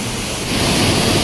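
Stream waterfall in a Konkan stream, rushing water as a steady broadband roar that swells louder midway through, close and continuous with no voices.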